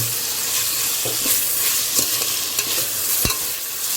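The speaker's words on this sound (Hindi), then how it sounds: "गैस को थोड़ा सा बड़ा करेंगे और टमाटर को अच्छे से पका लेंगे।" Chopped tomatoes fry loudly over a raised gas flame while a spoon stirs them. The dense, continuous sizzle is punctuated by scraping strokes and one sharp knock, with no voices.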